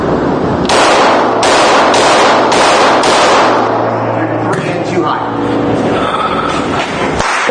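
Handgun fired repeatedly during firearms training, a rapid string of loud, close shots with sharp onsets in the first half, followed by rougher mixed noise and clatter.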